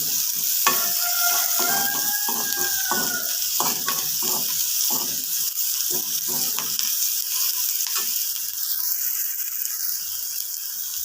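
Salted shallots and garlic sizzle in a hot pan as they are stirred and sautéed for tomato chutney. A steady, close frying hiss runs under intermittent scraping strokes of the spoon, with no voices.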